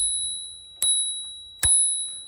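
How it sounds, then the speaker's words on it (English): A squeeze bell on a Honda Motocompacto electric scooter rings twice, each a bright metallic ding with a lingering tone, fairly close and alone, with a pause of under a second between strikes. "Right here is the bell."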